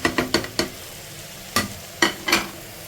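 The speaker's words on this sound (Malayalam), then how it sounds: "വെച്ചിരിക്കുന്ന വെജിറ്റബിളും കൂടെ ഒന്ന് ഇളക്കാം" Vegetables with chilli, coriander and turmeric powders, asafoetida and tamarind are stirred in a pot for a low-potassium sambar. A few quick scraping strokes come first, then a pause, then more scrapes, crisp and close.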